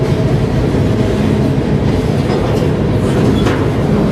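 Freight train rolling past the Amtrak station and crew office in Sandpoint, a small lakeside town in the Pacific Northwest, producing a steady, loud rumble with rail clatter that holds at an even level throughout.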